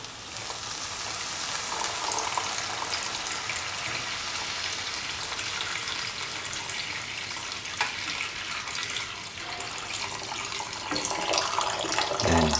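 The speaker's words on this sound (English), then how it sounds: "Pour in 500 ml of water." Water from a measured 500 ml portion poured into a pan for an Afghani-style eggs, tomato and potato breakfast, a steady splashing pour that runs unbroken for about twelve seconds and swells slightly near the end.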